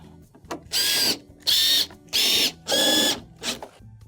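A power drill drives screws back in around the edge of an appliance during a repair. It gives four loud, close whirring bursts, each lasting about half a second, with short pauses between them and a brief softer spin at the end.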